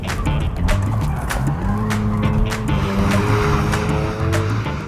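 A roughly 100-horsepower-short beginner drift car spins out with continuous, loud tire squeal over a strained engine note, steady throughout.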